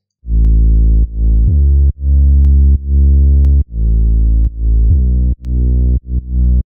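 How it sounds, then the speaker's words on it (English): A deep, buzzing distorted synth sub bass patch plays a series of sustained notes of varying length, each cutting off abruptly, with a slightly distorted edge. "So this is quite an interesting sub bass patch."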